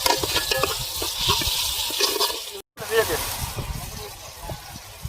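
Tomatoes and onions with salt being stirred in a pot for Nellore fish pulusu: a steady wet scraping and gentle sizzle under someone talking, cut by one brief silent gap.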